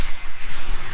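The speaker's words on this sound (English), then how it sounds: "Spitfire coming into land." A Spitfire's engine drones loudly and steadily as the plane comes in to land at Biggin Hill airport. The roar is brief and continuous and fills the whole moment.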